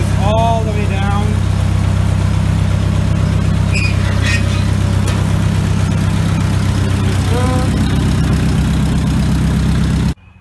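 A 1956 Ford 640 tractor idles with a loud, steady low rumble that runs unchanged until the ignition is switched off and it cuts out abruptly, with voices audible over it.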